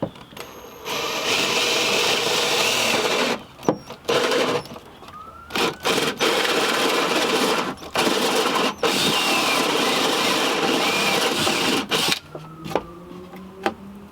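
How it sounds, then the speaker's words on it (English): A power drill whines in long sustained bursts with brief pauses between, boring four holes through wood up close, the motor pitch shifting as each hole is drilled. "Drill 4 holes with this big son."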